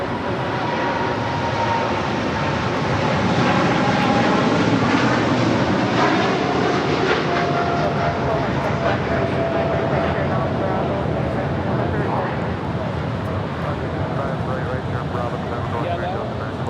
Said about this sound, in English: operated by Polar Air Cargo 9601, taking off to Seoul on a 747-8 freighter